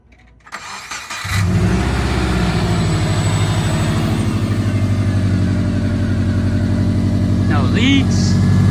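A swapped EJ20X engine in a Subaru WRX cranks and fires up after about a second, then settles into a loud, steady rumble close by, with a brief voice near the end.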